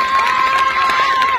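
Spectators at a short-format cricket match cheer and applaud in one brief continuous burst, a busy crowd wash with a steady tone running through it.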